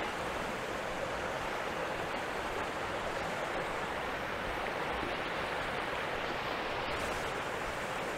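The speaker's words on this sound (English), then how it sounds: "I can hear a stream." Mountain stream in Temple Basin on New Zealand's South Island, a constant broadband rush of flowing water, steady and fairly close with no breaks and no voices.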